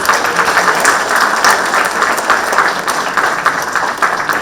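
Audience applause after an address at a climate action plenary session, a loud, sustained burst of many people clapping close by, steady throughout with no speech.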